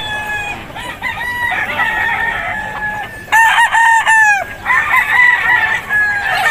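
A Boston cross gamefowl rooster crows loudly and close by at an outdoor pet market, several overlapping crows and clucks sounding one after another with no talking.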